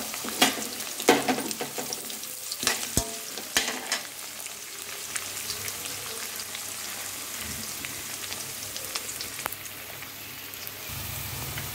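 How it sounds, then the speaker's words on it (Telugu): Sliced onions and green chilli pieces fry in hot oil in a pan, giving a steady soft sizzle broken by sharp clicks and scrapes of a spatula stirring against the metal, close and unaccompanied by voices. "ఇందులో సన్నగా తరిగి పెట్టుకున్న ఉల్లిపాయలు, పచ్చిమిరపకాయ ముక్కలు వేసి బాగా వేయించుకోవాలి."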